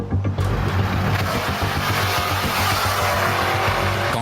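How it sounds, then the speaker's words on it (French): A tuned car does a burnout at a street-racing event: the tires smoke and squeal over a loud, steady engine roar that fills the whole stretch without a break. "C'est le coin des burns. On fait fumer les pneus."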